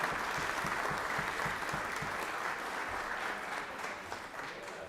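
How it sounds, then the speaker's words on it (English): A crowd applauds Senator Kelly Loeffler at a Georgia legislative session, with steady, dense clapping that holds even for about five seconds before tapering slightly near the end. "y'all give her a round of applause for her service to the country and everything"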